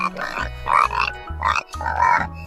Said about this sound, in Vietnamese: Chú lợn con.